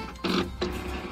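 Printer running in a Roblox home, two short mechanical bursts of whirring with a pause between them, close and fairly loud, no talk over it.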